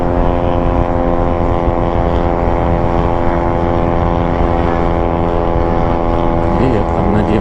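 A Mitsubishi Pajero engine revs hard while climbing, giving a loud, steady, droning roar that holds without letup throughout.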